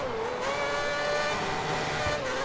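Formula 1 race car engine in F1 2010 on PS3 at the European round, a high, steady whining rev held close and loud, pitch dipping slightly then climbing again, with no voices.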